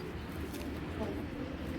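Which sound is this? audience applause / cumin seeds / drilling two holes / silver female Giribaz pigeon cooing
silver female Giribaz pigeon cooing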